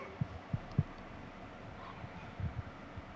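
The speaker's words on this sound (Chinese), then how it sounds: "又是心跳吗？" A heartbeat from the horror video game The Dark Pictures: Man of Medan: soft, low thumps arriving in quick pairs, a short cluster early on and another near the end, faint against a quiet ambient hum.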